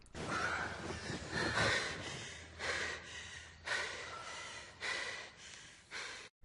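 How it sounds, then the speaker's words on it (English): Heavy breathing in repeated loud, breathy gasps and exhales, close to the ear, rising and falling in uneven rhythm with no talking. "the next scene starts with a lot of heavy breathing"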